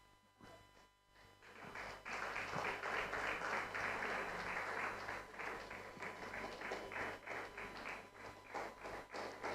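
An audience at a design sprint showcase bursts into applause after a quiet start. The crisp clapping stays steady and fairly near for several seconds over a low hum in the room.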